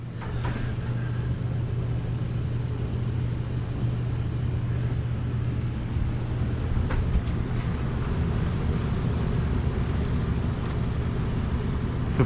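An RV's roof air conditioner vents blow hard, a steady, loud rushing and rumbling airflow that runs unbroken throughout, with a few faint clicks over the top.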